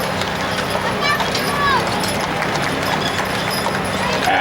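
Horse hooves clip-clop steadily as a horse-drawn open carriage rolls through a rodeo parade in Livermore, set against a constant wash of outdoor crowd and street noise.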